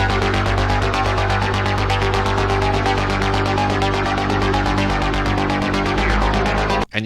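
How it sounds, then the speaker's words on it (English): Four Analog Lab synth layers run through Monolith bass presets give a loud, gritty, bright darkwave pattern, fast rhythmic pulses over a thick sustained low end, steady throughout before cutting off abruptly. "when we turn Monolith back on, all our synth layers are going to sound like this."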